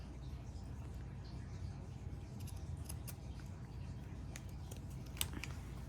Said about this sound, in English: I'm just barely going to use my pinking shears because I don't want to cut too close to my seam